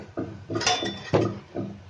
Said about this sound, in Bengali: আমি মোছা ভাজি করার জন্য চুলায় প্যান বসিয়ে দিয়েছি দিয়ে দিচ্ছি তেল